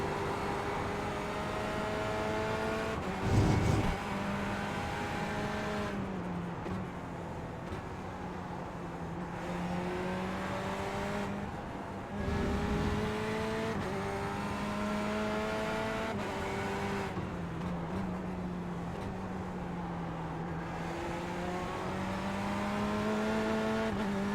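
A race car engine in iRacing drones steadily through gear changes, its pitch rising and falling through shifts, heard from the cockpit over a long continuous run with a few brief bumps.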